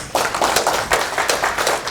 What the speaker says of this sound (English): Please, can you give him a round of applause?